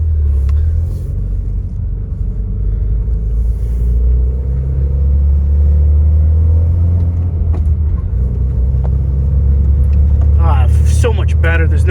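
A 2011 Mitsubishi EVO X GSR rumbles steadily from inside the cabin as it drives around the block, a continuous low engine drone with a few faint clicks and a brief voice near the end.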